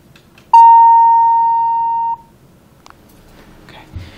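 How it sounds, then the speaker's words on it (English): Dover Impulse hydraulic elevator arrival bell strikes once: a single clear chime rings out loud, holds with a slowly fading sustain for about a second and a half, then stops, leaving a quiet room with faint background noise. "I want to hear that bell one more time."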